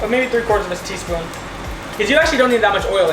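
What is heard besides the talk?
No everyday noise stands out behind the speech.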